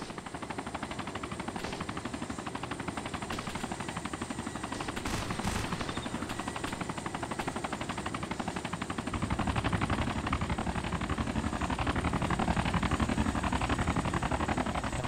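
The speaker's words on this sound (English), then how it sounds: "There's a heli coming. Oh shit, that's a gunship." An Mi-24 gunship helicopter in DayZ Epoch, a steady loud rotor chop pulsing throughout with rapid gunfire mixed in, growing louder and heavier in the second half, no voices.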